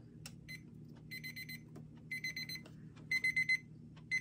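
A Herald & Barnes standing alarm clock rings quietly in short repeated electronic beep bursts that grow longer and louder toward the end over a low background hum, with no voices.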